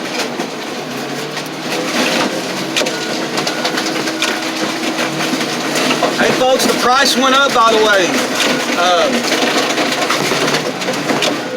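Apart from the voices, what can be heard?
1996 Chevy extended cab truck being crushed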